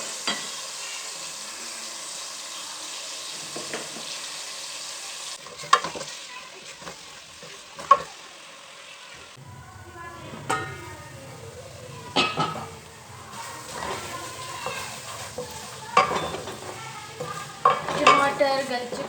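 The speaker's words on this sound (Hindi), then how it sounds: "सोया सुप्रीम का कुकिंग ऑयल लिया है, लहसुन को फ्राई करेंगे" Garlic frying in cooking oil in a pan while making bottle gourd curry, soft continuous sizzle with occasional stirring clatter and utensil knocks, fairly quiet and close.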